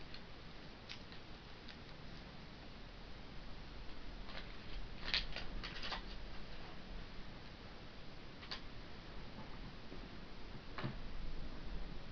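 Scissors snip through reinforced aluminium tape on helicopter rotor blades, giving a few sharp, isolated clicks spaced irregularly over a steady background hiss.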